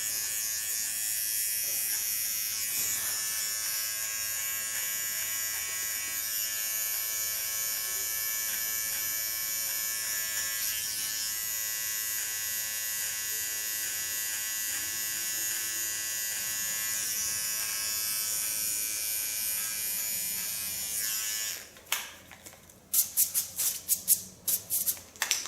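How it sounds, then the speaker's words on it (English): A fine electric hair clipper cuts a sharp contour line into a bob haircut with a close, steady buzzing hum. Near the end it breaks into short uneven bursts before cutting off. "With my fine clipper, I make a nice sharp contour line."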